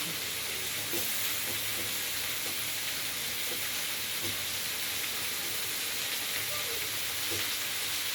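Chopped tomatoes sizzle steadily in a hot pan, a continuous close crackling hiss with faint scattered pops running throughout, no talking.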